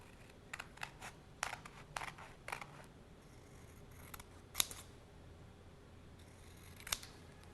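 Scissors snip through paper to cut out ghost shapes for a Halloween window decoration, a series of sharp, close, crisp snips spaced irregularly, some in quick pairs, over a quiet room with no talk.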